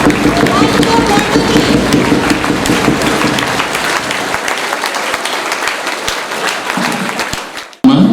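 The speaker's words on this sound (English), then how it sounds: "give a huge round of applause for him" Audience applause for a Deputy Commissioner of Police at a school welcome event for distinguished guests, steady dense clapping with crowd babble that tapers off and cuts out near the end.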